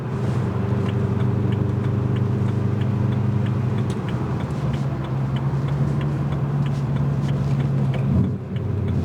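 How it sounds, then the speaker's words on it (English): A car engine with a suspected misfire runs steadily in a continuous low drone with a slightly uneven texture, heard close up without speech. "I think it has a misfire."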